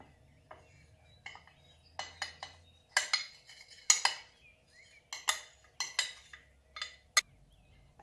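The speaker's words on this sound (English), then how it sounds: "I will mix them together." A utensil scrapes and clinks against a bowl while a cup of all-purpose flour and half a cup of cornstarch are stirred together into a dry coating, in irregular soft strokes close by.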